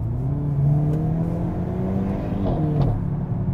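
A 2022 Hyundai Elantra N with a manual gearbox pulls away hard, its engine note climbing steadily through the revs, loud and close, then dipping briefly as if for a gear change before rising again; no one speaks.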